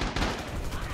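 Dense, rapid machine gun fire from an MG in a multiplayer shooter game pounds continuously without a break, loud and close.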